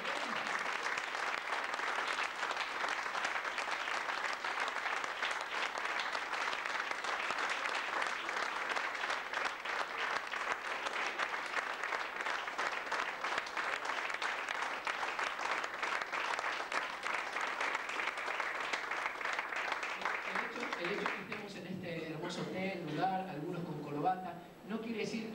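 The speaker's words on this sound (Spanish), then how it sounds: "¿Qué les parece si no le damos un buen aplauso a nuestro Señor?" Long, sustained applause from a church congregation fills the space evenly, fading at the end as a voice begins speaking in Spanish.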